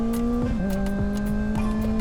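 A 2025 Kawasaki ZX6R motorcycle engine revs hard, a loud, continuous high-pitched whine that dips briefly as the throttle shifts and then climbs again, close and dominant with steady road noise underneath.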